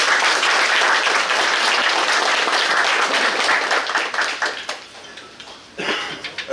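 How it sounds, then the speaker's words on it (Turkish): Audience at a gathering of people from Kahramanmaraş in Kemer applauding warmly: dense, steady clapping for several seconds that thins into scattered, uneven claps before a brief final burst. "Onları biz alkışlıyoruz."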